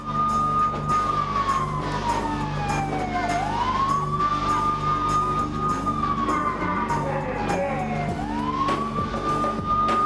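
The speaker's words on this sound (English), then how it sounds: "And those are the sirens saying Big Papa Pump is in the house." A wailing siren in a wrestler's entrance music at a 2005 professional wrestling event rises and falls in long, slow sweeps, loud and continuous, with a steady engine rumble underneath.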